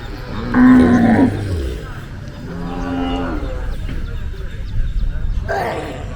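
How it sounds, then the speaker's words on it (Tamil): Cattle at a native cattle market in Palayamkottai moo loudly and close, one long low call followed by further lowing, over crowd noise and voices. "கொத்தி ஓட்டுக்கிட்டு போகுது மாடு"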